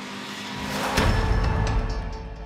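A Lamera race car passes at Magny-Cours, its engine swelling from a distant drone to a close, rasping roar and then fading, with gear-change blips near the end.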